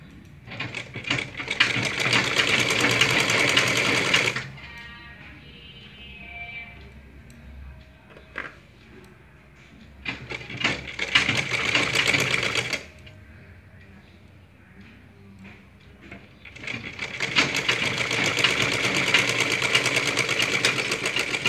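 A sewing machine stitches a blouse in three long steady runs of fast whirring chatter, with quieter pauses between them where faint handling noises are heard.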